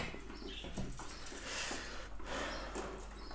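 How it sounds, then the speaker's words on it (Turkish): Faint high-pitched peeping and squeaking of baby birds calling, over a steady background hiss, with no voices. "Bakın yavruların sesleri nasıl geliyor."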